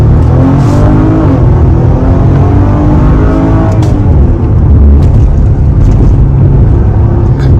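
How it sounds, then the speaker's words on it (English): Deep, loud exhaust rumble from a Maserati Levante GT in sport mode with its exhaust valves open, a continuous throaty engine drone that swells as it accelerates, heard from close by. "You can hear that exhaust."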